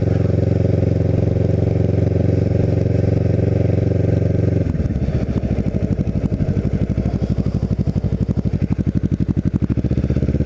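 A Kawasaki Ninja 650R motorcycle engine roars loudly and close, holding a steady drone before shifting into a rapid, pulsing putter as it rides on through streets in North Cape May.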